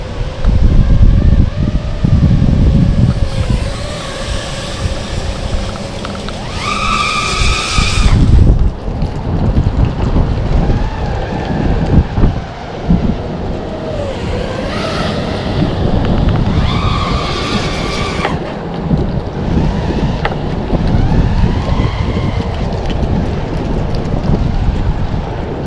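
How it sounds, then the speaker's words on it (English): Strong storm wind gusting through trees, roaring and buffeting the microphone loudly and almost continuously, with surges of heavier gusts rising and falling throughout. "Wow, this wind."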